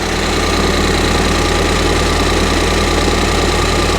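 A Ford Fiesta ST180 engine idles smoothly after a vacuum line repair, with a loud, steady, close hum and no surges, alone throughout.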